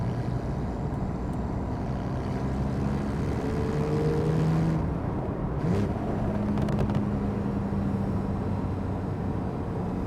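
A manual Porsche 911 GTS cruises on a motorway in 7th gear, its engine a steady low drone with road and wind noise all through, a brief high whoosh of passing traffic near the middle.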